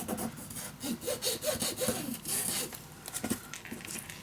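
Paper is burnished down onto a book for a secret storage craft, a series of soft rubbing and scraping strokes, close and fairly quiet, with a brief pause before a few final strokes.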